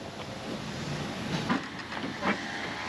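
Isle of Man Steam Railway carriage trundling between Douglas and Port Erin behind 2-4-0 tank loco No. 11 Maitland, built 1905 by Beyer Peacock; a steady rolling rumble and hiss with faint rhythmic clunks.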